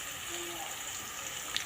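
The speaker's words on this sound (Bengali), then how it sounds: "এখন একটু ভালো করে ভেজে নেব" Turmeric powder and meat spice fry in a home kitchen pan, giving off a steady, faint sizzle with no pauses.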